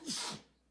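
A single sneeze bursts out sharply and then fades over a fraction of a second, fairly close to the microphone, followed by a brief quiet.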